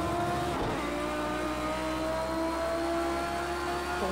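In Project CARS 2, a race car accelerates hard with a continuous loud engine drone climbing in pitch through the gears, heard from close in-car, with no talking.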